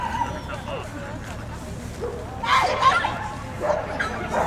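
A 12-year-old Parson Russell terrier barking and yipping during a fast agility run, a few excited high barks in quick bursts over crowd noise and a commentator's voice.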